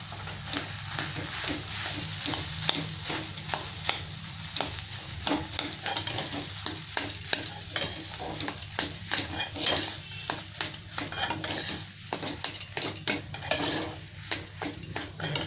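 Boiled potato being mixed into a filling in a pan, a continuous run of close metal-on-pan scraping and tapping strokes over a low background sizzle, with no voices.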